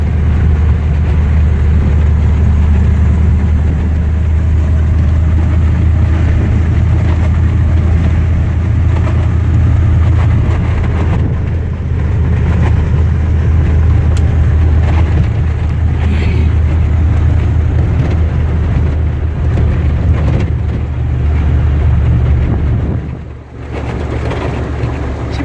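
A 1951 Ford F1 pickup with a 302 Ford engine and overdrive transmission drives along, its steady low engine rumble and road drone continuing loudly throughout with a brief dip near the end.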